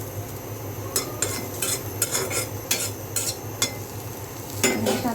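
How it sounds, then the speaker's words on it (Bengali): Garlic and chili fry in a pan with a soft continuous sizzle, while a metal utensil stirs and scrapes against the pan in sharp, irregular clinks, close and alone. "রসুন আর মরিচ ভেজে নিলাম।"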